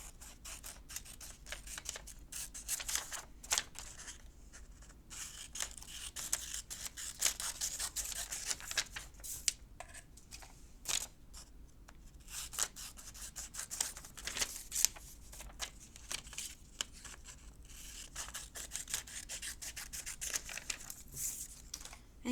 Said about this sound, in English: What I like to do is cut along the edge so it stands out a little bit better.